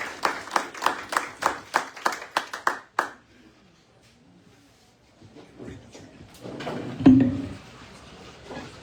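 Scattered hand claps from a small audience for a parish school's state-champion girls' volleyball team, a few seconds of distinct claps that stop abruptly, followed by quiet room noise and a brief murmur of voices.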